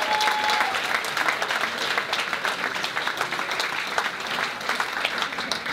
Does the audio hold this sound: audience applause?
yes